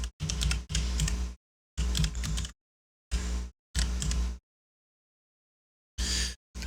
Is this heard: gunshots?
no